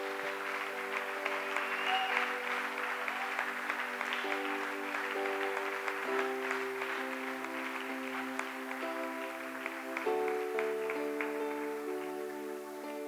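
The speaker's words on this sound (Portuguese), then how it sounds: "Eu gostaria junto com você aplaudir o Senhor Jesus por essa vitória" A church congregation applauds steadily in praise, clapping dense and sustained throughout with a sustained organ or keyboard chord pad running underneath and no talking.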